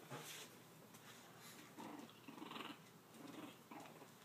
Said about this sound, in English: Did you hear him growl?